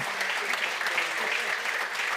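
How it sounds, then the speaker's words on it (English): Audience applause at a tech conference's center stage, a steady dense wash of many hands clapping throughout, moderately loud and close with no one talking over it. "round of applause."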